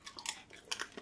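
Faint, close crunching bites and chewing of crisp fuchka (pani puri) shells, several quick crackly bursts in a short burst of eating.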